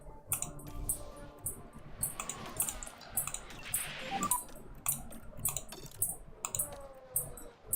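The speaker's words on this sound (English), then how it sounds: "So the clicking you can hear is probably the fan that's on the ceiling. That or the mouse. It's a loud click." Sharp, loud clicks from a computer mouse or a ceiling fan in a room during a racing management game, coming in quick irregular bursts at close range, with no speech.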